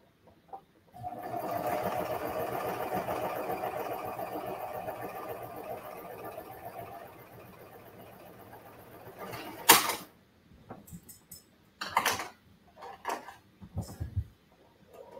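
A sewing machine stitches a scrap of fabric as a quick test, humming steadily for several seconds and then slowing down, followed by sharp clicks and short handling noises.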